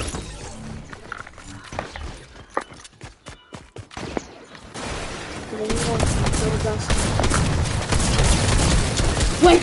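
Drum shotgun blasts in a video game, a run of sharp, loud rapid shots early on, then a dense sustained barrage of heavy booming fire and clatter that grows louder toward the end, with some speech mixed in.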